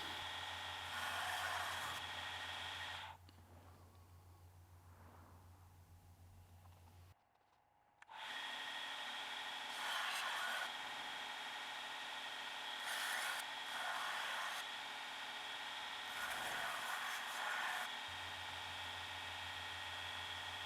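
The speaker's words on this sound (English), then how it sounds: "This is a 48-inch grinder running with a 40 grit blaze belt" A 48-inch belt grinder with a 40-grit belt grinds a forged BBQ knife, its motor whining steadily while the blade scrapes against the belt in repeated passes, pausing briefly midway before resuming.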